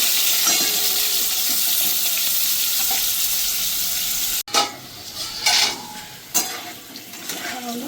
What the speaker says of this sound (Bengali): ভালো করে আমি একটু আলুটাকে ভেজে নেবো 5 মিনিট।